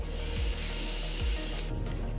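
A heat gun blows hot air onto the vibration motor inside a Samsung Galaxy Note 20 Ultra during repair, a steady close whooshing hiss with a faint low hum and a slight shift near the end.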